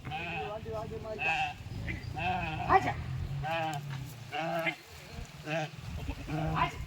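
A flock of sheep and goats bleat repeatedly, close by, several wavering cries overlapping with people talking in the background.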